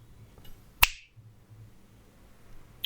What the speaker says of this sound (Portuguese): Um estalar de dedos.